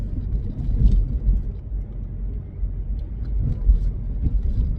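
Low, steady rumble of a car driving, road and engine noise filling the interior with no talking.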